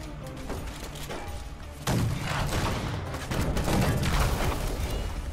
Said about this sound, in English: the fireworks don't really work on that